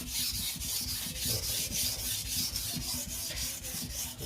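A Victorinox knife edge drawn across a sharpening stone at a shallow angle, giving steady rhythmic rasping strokes that repeat about every half second, close and even, with no voices.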